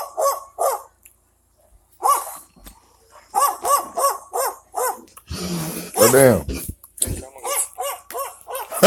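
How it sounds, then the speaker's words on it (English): Nearby dog barking in repeated sharp bursts, then a rough drawn-out growl midway before the barking resumes, while someone briefly speaks over it. "Man, I'm gonna have to move because there's a dog right here."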